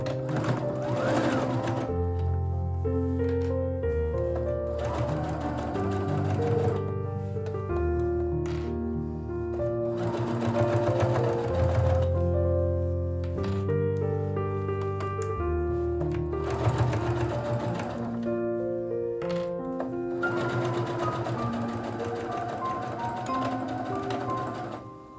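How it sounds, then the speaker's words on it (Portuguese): A sewing machine stitches the side seam of a lined fabric box, running in steady rapid bursts separated by brief pauses, close and continuous with no voices. "vou costurar toda essa lateral dos dois lados"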